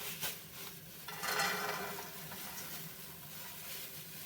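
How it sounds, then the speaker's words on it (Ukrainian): Garlic scapes tipped into hot oil in a frying pan give a faint, soft sizzle. Light clattering bursts from the pan sit over it, with no voices. "І зразу висипаю часникові стрілки."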